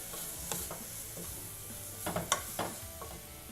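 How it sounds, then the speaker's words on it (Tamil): Garam masala being sautéed and stirred in a pan for beetroot pulao, a faint low sizzle with intermittent scraping clicks of a spoon against metal, close and quiet. "இதை வந்து நல்லா மிக்ஸ் பண்ணி விட்டுட்டு இதோட பச்சை வாசம் போகிற வரைக்கும் இதை வதக்கிடலாம்."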